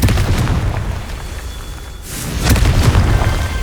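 A Confringo explosion spell in the video game Hogwarts Legacy bursts as a loud, close boom, dips briefly, then a second heavy blast rumbles and lingers to the end.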